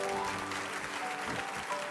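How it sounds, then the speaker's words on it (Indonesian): A church congregation breaks into applause, a dense, sustained wash of many hands clapping together at close range, with a faint tonal hum from the room underneath. "Kasih tepuk tangan bagi Tuhan Yesus."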